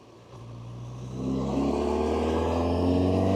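A Triumph Street Triple 765RS naked sportsbike engine pulling in sixth gear at about a third throttle from low speed, a steady drone that swells in loudness and pitch as it builds, heard close and without talk.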